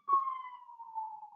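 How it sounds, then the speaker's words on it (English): Emergency vehicle siren passing outside, a single long wailing tone that slowly falls in pitch, heard alone. "I apologize for the siren out in the background."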